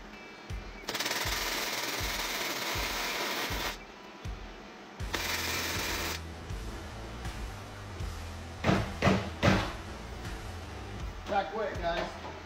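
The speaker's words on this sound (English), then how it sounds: "We're going to go ahead and weld this cage back up." A MIG welder set to about 200 inches per minute welds a go-kart roll cage, giving close crackling bursts in two long runs separated by a pause, followed by clanks and handling noises.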